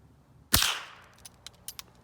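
A single sharp crack from a lever-action .22 rifle, fired close by, followed by a quick decaying tail and a few faint, light clicks afterward.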